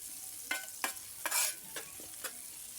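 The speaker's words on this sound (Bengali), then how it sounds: "দিয়ে দিব এক বাটি পেঁয়াজ কুচি, দিয়ে ভালো করে এবার ভেজে নেব নেড়ে চেড়ে" Chopped onions frying in oil in a pan, stirred with a series of distinct, separate scraping strokes over a quiet, low sizzle.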